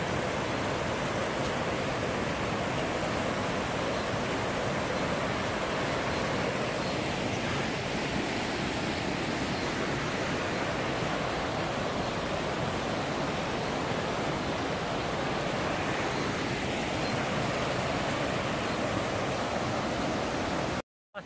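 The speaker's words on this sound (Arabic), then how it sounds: "كلها شلالات في شلالات" Waterfalls in Armenia roar as a steady, broadband rush of falling water, dense and unbroken from start to finish with no voices over it.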